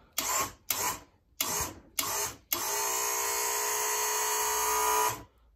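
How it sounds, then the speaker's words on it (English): A 12V hydraulic pump salvaged from a wheelchair lift, driving rams on a workshop table: four short whirring bursts as the control is tapped, then one sustained steady electric motor whine for nearly three seconds before cutting off, close and fairly loud. "I press the control, you'll hear the pump."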